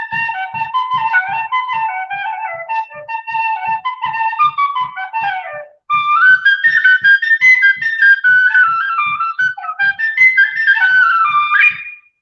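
A penny whistle plays a lively melody of quick, bright ornamented notes in two phrases with a brief pause between, loud and close, accompanied by a soft regular tapping beat, with no talking.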